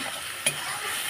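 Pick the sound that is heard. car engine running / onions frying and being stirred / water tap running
onions frying and being stirred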